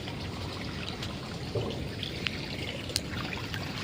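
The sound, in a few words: water draining from swimming pool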